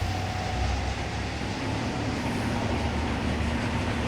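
Steady rolling rumble of a train in the game Trainz: A New Era, a continuous low drone with a faint tonal hum, constant and close throughout with no talk.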